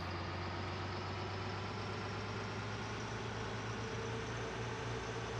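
A tractor engine idles steadily in Farming Simulator 19, a continuous low rumbling drone that holds at an even level throughout with no talking.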